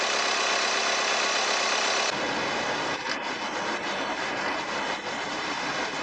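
An Audi engine idling steadily during coolant work with the heater on, a constant low mechanical hum with a broad whooshing fan-like noise, close by and without talk.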